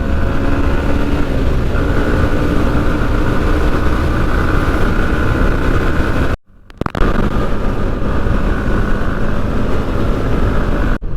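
Yamaha MT15 motorcycle engine pulling in third gear on a long ride, a loud steady drone with a brief cut-out partway through before the engine note resumes.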